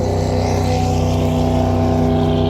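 Boat cruising under an electric trolling motor powered by LiFePO4 lithium batteries, heading toward the Needles Bridge; a steady, loud, continuous hum with a tonal whine and constant water rush that stays level throughout.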